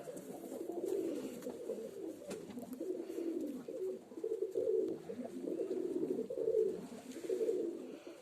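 Polish Górniak pigeons coo in a loft, a continuous overlapping series of soft, throaty rolling coos from several birds nearby, fairly quiet and steady throughout.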